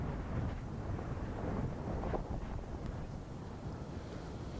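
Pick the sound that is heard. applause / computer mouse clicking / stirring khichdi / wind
wind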